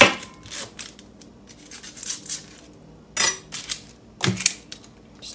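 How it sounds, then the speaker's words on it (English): A knife chops through a red onion on a cutting board, giving a few sharp, close crisp cuts spaced irregularly, with two stronger strikes near the end and quiet pauses between. "Next thing I'm gonna do is gonna go ahead and chop up this red onion."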